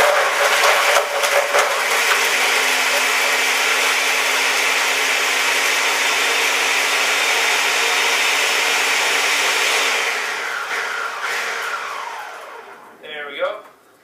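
A loud, steady whirring motor of a Ninja blender drones for about ten seconds, then winds down and stops, followed by a brief clatter.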